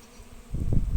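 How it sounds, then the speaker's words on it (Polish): Buzzing of honey bees around Japanese quince flowers grows louder halfway through, a close, low droning hum. "No jest tu cały ul dzisiaj, ale pszczoły są ewidentnie zainteresowane tylko"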